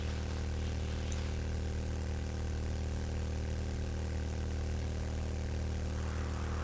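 Small motorbike engine in a video game, a steady, unbroken droning hum with a low buzzing tone, at a moderate level with no one talking.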